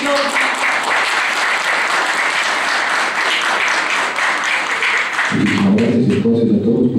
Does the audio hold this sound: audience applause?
yes